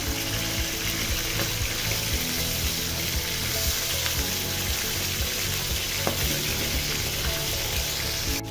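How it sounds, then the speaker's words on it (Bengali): Bata fish fry in oil in a pan and get turned over, a loud, dense, continuous crackling sizzle close up with a couple of faint clicks from the flipping, no voices. "মাছের এক সাইড ভাজা হয়ে গিয়েছে, এখন আমি উল্টে দিচ্ছি"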